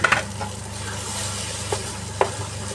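Mung beans being stirred in a pan in a home kitchen, with a low steady simmer and a few scraping clicks of the spoon, fairly close, no talking.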